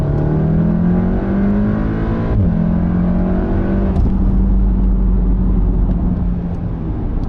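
Volkswagen Golf R accelerating hard uphill, its engine note loud and rising steadily with a gear change midway, alone without talk.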